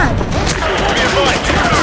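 Gunfire in the video game Call of Duty Modern Warfare 2 Remastered, a loud, dense burst of rapid overlapping shots that continues without a break.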